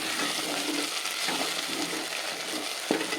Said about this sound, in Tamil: நல்லா எண்ணெய் பிரிஞ்சு வரணும் அந்த அளவுக்கு வறுபடணும் மீடியம் ஃப்ளேமில் வச்சு வதக்கிக்கலாம்